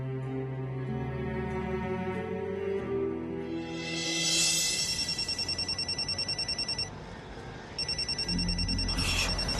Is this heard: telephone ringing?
yes